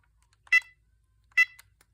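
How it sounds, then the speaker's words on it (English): Two short, loud keypad tones from an old AT&T 9410 cordless phone, spaced under a second apart, each a brief bright beep against near silence. "Those keytones are pretty loud."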